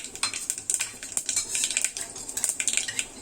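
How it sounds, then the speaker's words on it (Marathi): Mustard seeds and cumin crackling in hot oil for a spinach pulao tempering, a rapid irregular stream of sharp pops and spits, close and crisp, with no talk. "सगळं छान तडतडलं की छान तेलात सुगंध येतो."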